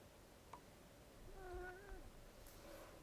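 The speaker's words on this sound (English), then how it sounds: "I've got a cat chiming in the background here." A cat meows faintly in the background of a quiet room, a single drawn-out plaintive call with a short chirp before it and a softer murmur after.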